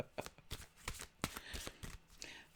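A deck of tarot cards is shuffled by hand in quick, uneven riffles and taps, close and fairly soft, with a faint voice in the background.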